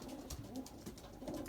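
Racing pigeons coo softly and faintly, a few low, rolling murmurs within a second and a half of quiet loft ambience.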